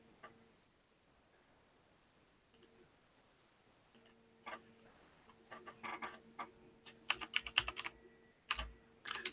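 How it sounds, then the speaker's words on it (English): Typing on a computer keyboard, faint scattered key taps at first, then building into rapid bursts of sharp clacking keystrokes over a quiet background hum. "Now you hear my keyboard clacking away."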